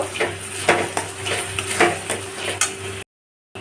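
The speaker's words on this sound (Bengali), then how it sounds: "মশলাটা কষানো হচ্ছে এর মধ্যে দিয়ে দেব ফেটানো টক দইটা দিয়ে ভালো করে মিশিয়ে নেব" Spice masala sizzles in a pan while whisked sour yogurt is stirred in for a paneer and potato curry. Steady frying hiss runs under repeated scraping stirs and light utensil knocks, with no talk.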